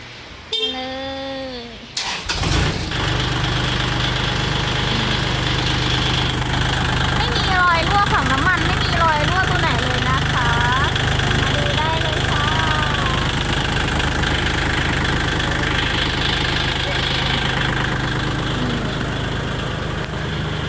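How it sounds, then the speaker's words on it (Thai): A Kubota L4018 tractor's heavy diesel engine starts with a brief whine, then settles into a steady, loud, low rumbling idle. "ฟังเสียงเครื่องแล้วก็ดูเครื่องยนต์ภายในกันค่ะ"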